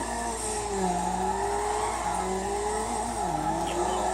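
Tires squealing as a car drifts in a race in the video game Need For Speed Underground, with wavering screeches that rise and fall over a steady engine drone, continuous and close throughout.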